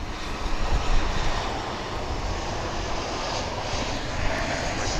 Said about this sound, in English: An American Airlines flight coming in from Austin,